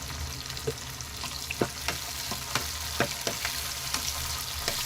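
Two chopped medium tomatoes and slit green chillies frying in a pan for a sardine fish curry, a continuous sizzle broken by regular sharp spatula taps and scrapes, no voices.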